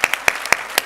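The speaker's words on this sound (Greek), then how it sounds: "Και εγώ εδώ θέλω παλαμάκια" Audience clapping at a shipping executives panel forum, a brief burst of distinct claps in a loose rhythm, close and fairly loud.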